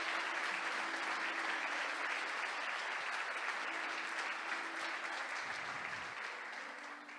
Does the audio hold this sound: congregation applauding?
yes